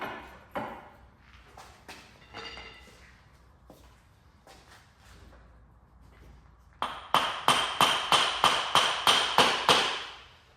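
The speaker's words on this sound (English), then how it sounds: "with a gentle tap with a copper hammer on the end, you just knock it in until you hear a change of tone" A copper hammer taps the end of a Ford Transit Connect driveshaft to seat it in the gearbox. A few scattered knocks come first, then about ten loud, evenly spaced metallic strikes ring out close by in a quick run.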